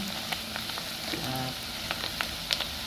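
Onion and garlic sauté in a pan for Filipino bopis, a soft steady sizzle with a few sharper crackles and light stirring, fairly quiet with no talking.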